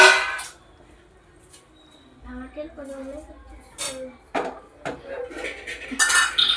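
Fish curry is stirred in a pot with something other than a ladle, giving scattered metallic scrapes, clinks and knocks, some sharp and close, while someone talks.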